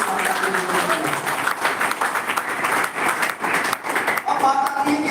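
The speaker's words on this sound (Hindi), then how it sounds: "मैं चाहता हूँ संजय जी के लिए अब तक की सबसे जोरदार ताली" A seminar audience claps in loud, sustained applause for several seconds, dense and continuous, with a voice audible over the clapping.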